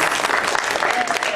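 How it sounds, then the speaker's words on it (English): An audience applauds in a steady burst of clapping that fills the whole short moment, close and loud, at a science energy demonstration. "Let's give her a round of applause anyway."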